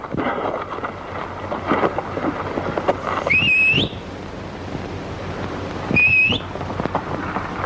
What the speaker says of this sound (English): Don't do you no good to whistle.